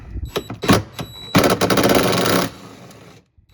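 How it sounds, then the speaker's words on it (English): A 10 mm bolt on the power back door of a 2021-2026 Toyota Sienna is worked loose by a hand tool, giving a series of close, sharp clicks and a dense burst of ratcheting that ends abruptly, with no talk. "Now remove this 10 millimeter head bolt."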